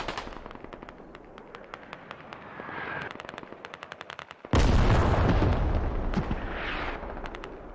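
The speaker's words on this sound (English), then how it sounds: "Mortar barrage." A mortar barrage in the military shooter Squad opens with a rattle of distant small-arms fire, then a heavy explosion slams in close and rumbles on loudly as the shells keep landing.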